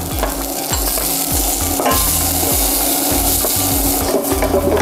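Shallots and roughly chopped bird's eye chilies stir-fried in a pan, with a steady loud sizzle and repeated scraping strokes of a utensil about every half second, no talking.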